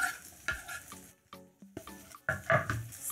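Chopped coriander stems hit a pan of frying onions for egg curry, giving bursts of sizzling and spatula scraping separated by brief quiet gaps.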